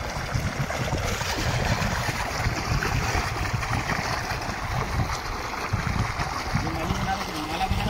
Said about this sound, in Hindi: ये पानी गिरा